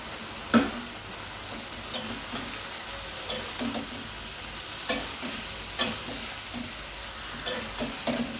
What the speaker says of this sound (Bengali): একটু ভালো করে আমি ভেজে নিচ্ছি।